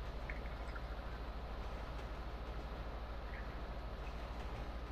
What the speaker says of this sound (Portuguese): Trem, cara, pulei pro trem.